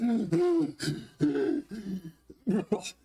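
A voice imitates coughing in a few rough, throaty bursts with short pauses between them, close and fairly loud.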